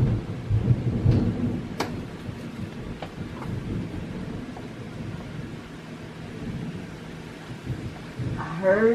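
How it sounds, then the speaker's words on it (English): Rolling thunder outdoors in Georgia: a long, low, grumbling rumble with a sharper crack early on, fading and swelling over several seconds, with no voices. "I heard some thunder."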